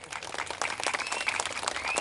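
A crowd at a Tamil stage event in Madurai gives a round of applause, a steady, dense patter of clapping that fills the whole moment, fairly close and with no talking over it.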